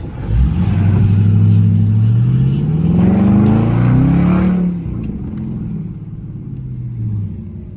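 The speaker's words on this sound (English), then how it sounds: "Damn, bro, we got hella cars out today" Fast cars at a car meet, including a Dodge Charger R/T and Hellcats, rev loudly up close, the engine note climbing in pitch before easing into a lower, rumbling idle.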